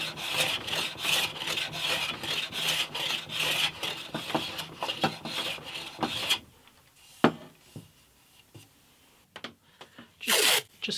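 A file rasps back and forth across the wood of an acoustic guitar headstock being shaped, a quick rhythmic run of close scraping strokes, then a pause with a few isolated scrapes and taps.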